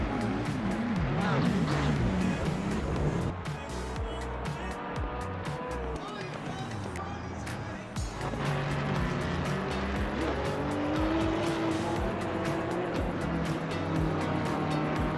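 Race cars in the Assetto Corsa Competizione racing game roar around the track, with engines rising and falling through gear changes, bursts of tire squeal and passing cars, loud and continuous.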